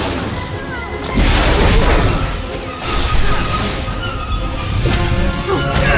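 In the Star Wars: The Old Republic video game, a roaring blast crashes in with a booming, crackling burst and then churns on as a noisy, sustained rumble with further crashes layered in among the combat sounds.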